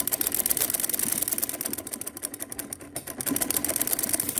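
A sewing machine runs a double line of stitching on the bottom hem of a salwar, giving a rapid, continuous mechanical rattle of needle strokes, close and steady, easing briefly mid-run before picking back up.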